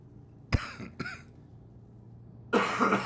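Two sharp throat-clearing coughs close together from a nearby person, followed after a pause by a longer rough coughing burst, over a low steady background hum.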